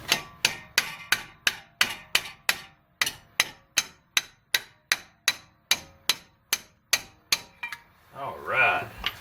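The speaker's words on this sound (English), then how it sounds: "Let me go get a rubber hammer." A rubber hammer strikes car brake parts in a quick, even series of about twenty sharp, loud blows, then the pounding stops and a brief rustling noise follows.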